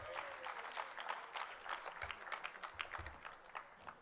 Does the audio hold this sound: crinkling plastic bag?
no